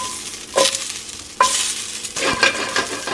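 Broccoli, peppers and carrot with minced garlic, salt and pepper sizzle in a hot pan, steady frying hiss broken by three sharp scrapes or tosses of the vegetables, close and fairly loud, no talking.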